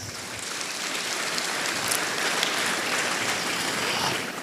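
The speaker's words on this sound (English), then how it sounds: "Let's give them a big round of applause." Large audience applauding at a college commencement exercise, a dense, steady wash of many hands clapping at once, fairly loud and sustained throughout with no talk over it.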